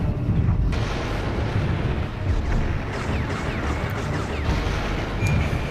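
Artillery fire in the Ring of Red mech strategy game, striking and destroying a shield: a continuous loud roar of blasts and crashing rumble with no break, dense low booms layered under a rough wash of noise.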